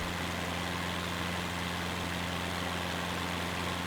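Aircraft engine in a flight simulator, throttled back to reduced RPM, giving a steady, continuous droning hum with a low, even pitch and no breaks.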